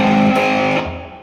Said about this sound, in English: I had accidentally left my distortion on when I was showing him the riff